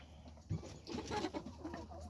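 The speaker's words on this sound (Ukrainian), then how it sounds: "Курочка прийшла, теж молоденька курочка." A young hen clucks softly in a short, close, quiet burst of a few low calls.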